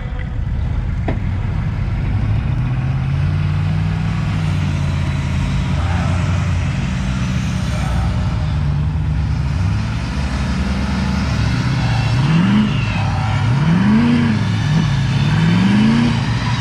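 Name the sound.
Ford diesel trucks revving to pull out stuck dump truck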